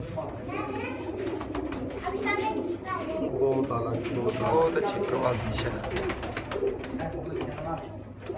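Sialkoti pigeons coo steadily throughout, layered and close, while someone talks over them and other background sounds mix in.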